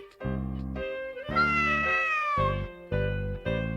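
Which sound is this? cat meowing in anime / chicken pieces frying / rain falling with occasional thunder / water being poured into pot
cat meowing in anime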